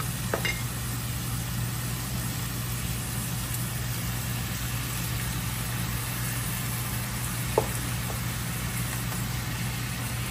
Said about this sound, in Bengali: এখন আমি শিম দিয়ে দিই।